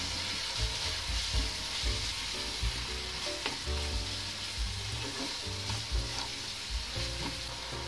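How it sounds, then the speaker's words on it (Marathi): Tomato, ginger garlic paste, curry leaves and chopped coriander sizzle steadily in oil in a pan, with a continuous frying hiss and repeated stirring scrapes throughout. "1 चमचा अद्रक लसूणची पेस्ट, कढीपत्ता, बारीक कट केलेली कोथिंबीर मिक्स करूया।"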